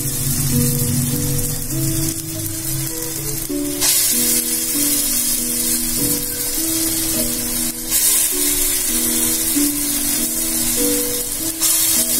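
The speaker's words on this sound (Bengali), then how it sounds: "আমার ভাজা কমপ্লিট এভাবে সব আমরা ভেজে নিলাম" Ingredients for a vegetarian matar dal bhapa fry in a pan with a loud, continuous sizzle and crackle, plus occasional brief bursts of spattering.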